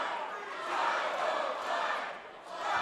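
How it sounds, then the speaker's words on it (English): Crowd at a Duke City Championship Wrestling show chanting for Mosh Pit Mike, a sustained roar of many voices that swells and fades in rhythmic waves from a distance. "the crowd comes to life with the 505 chant of Mosh Pit Mike"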